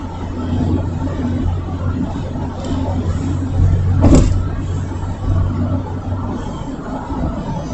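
Utility truck engine labouring up a steep bridge, a steady low rumble of a road vehicle under load with a brief louder surge midway, heard from nearby alongside other traffic.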